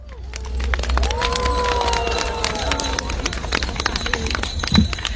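Audience at the opening of Lviv's main Christmas tree for 2025 claps and cheers outdoors, a steady wash of applause from a large crowd with a few scattered shouts.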